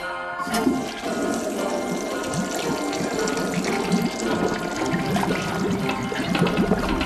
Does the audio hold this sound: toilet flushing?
yes